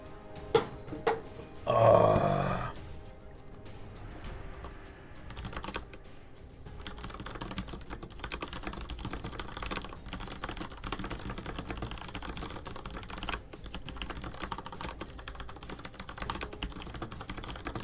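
Steady typing on a computer keyboard by a player messaging between rounds in an online card game queue, a continuous close run of key clicks lasting the whole stretch, with a brief louder burst near the start.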